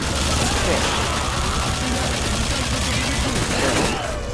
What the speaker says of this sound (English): I wonder if it's necessary for me to shoot these guys